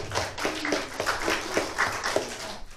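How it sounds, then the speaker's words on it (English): A church congregation claps along in rhythm during a service, a steady run of overlapping hand claps at moderate loudness with the room's roomy echo behind them. "Another hand clap."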